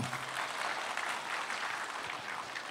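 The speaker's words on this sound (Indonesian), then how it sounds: "saya minta Anda tepuk tangan sekali lagi untuk Pak Eka" An audience claps steadily for a few seconds, a dense, even patter of many hands.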